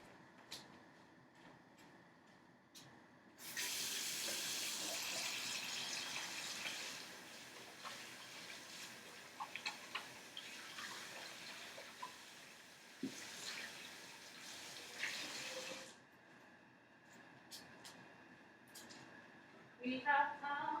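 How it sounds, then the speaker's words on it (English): A tap runs for hands to be washed, a steady broad rush of water for about twelve seconds that then cuts off, with faint handling noises and clinks around it. "I'm actually gonna go wash my hands real quick"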